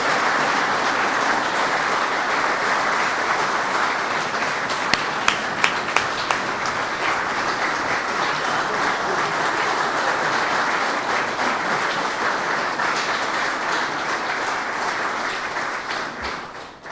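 Audience applause for Gold Star moms at a veterans event fills a large room, a broad, steady wash of many hands clapping with a few sharper nearby claps, sustained throughout before starting to taper at the end.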